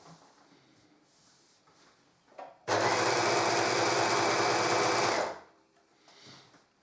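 An overlocker sewing machine stitching a gun sock whirs loudly and steadily for about two and a half seconds, then stops, with quiet handling sounds before and after.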